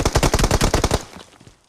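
Rapid automatic gunfire in a battle royale video game, a burst of about a dozen sharp shots in quick rhythm, loud and close, then cutting off into a short fading tail.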